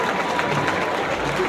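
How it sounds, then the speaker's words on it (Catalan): Crowd applause at the 30th giants gathering in Calella, 2012, a steady dense wash of clapping throughout with a faint voice mixed in. "Un pot d'aplaudiment, sisplau."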